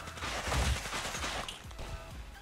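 Gunshots in the Zooba video game: a short cluster of quiet, muffled bangs near the start, then softer scattered pops under a faint background hum.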